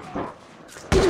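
A sniper rifle shot in a video game: a single sharp, loud crack near the end of a short stretch, with a softer thump earlier.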